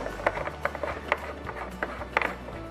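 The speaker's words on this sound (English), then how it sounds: "I take a 22 millimeter wrench and I'm going to turn this in until the plastic is completely pushed out of the actuator's body" A wrench threads a brass knockout plug into the body of a Belimo actuator, giving a series of close, light metallic clicks and ratcheting ticks in an irregular rhythm over a low steady hum.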